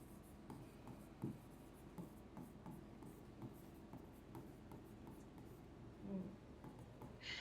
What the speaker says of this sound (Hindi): तो आइए इसकी डेफिनेशन लिख लेते हैं अब हम।